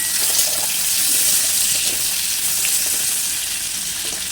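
Onion and green chili frying in a wok for a Bengali pui shak and prawn dish, giving a steady close hiss and sizzle with small crackles throughout.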